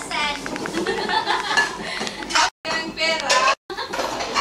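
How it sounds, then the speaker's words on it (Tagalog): Dishes and cutlery clink and clatter as plates are picked up and gathered, a busy, close rattle of ceramic and metal with talk and children's voices in the background. "Ito, namumulot ng pinggan."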